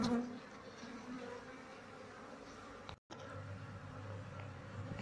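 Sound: wild honey bee colony buzzing

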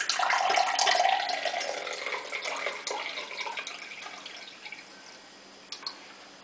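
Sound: pouring water off asparagus

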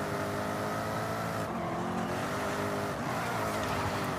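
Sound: Jaguar XKR-S GT car drifting in video game Forza Horizon 5

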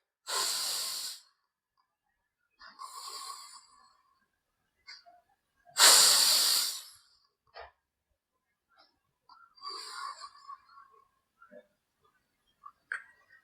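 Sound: deep breathing in yoga practice

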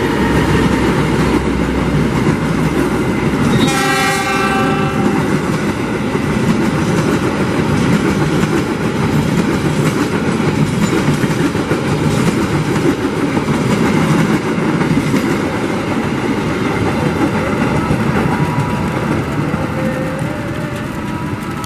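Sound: passenger train passing with horn

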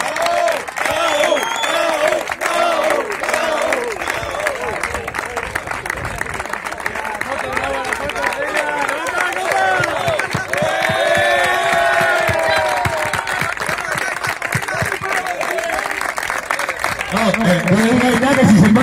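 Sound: audience applause

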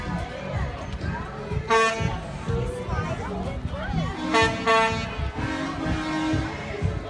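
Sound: trucks honking horns at touch-a-truck event

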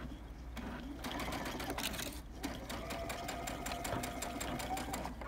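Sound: sewing machine stitching Cuddle Minky fabric blanket

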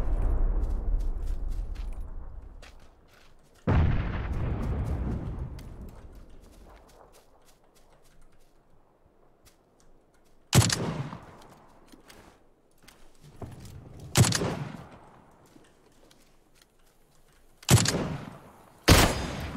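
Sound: gunfire in video game PUBG

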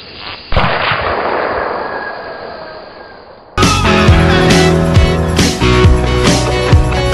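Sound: gun being fired

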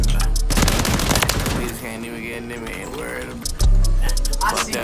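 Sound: gunfire in video game Call of Duty Modern Warfare 3

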